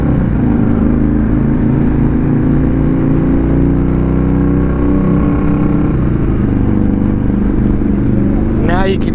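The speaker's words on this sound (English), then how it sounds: "Now you can hear Matt's bike." A companion's motorcycle rides alongside on a cold road trip, its engine a loud, steady droning rumble mixed with wind noise throughout, close by, with a brief rising whine near the end.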